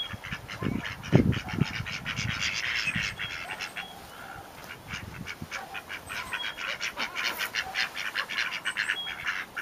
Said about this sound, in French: Avec les canards en bruit de fond.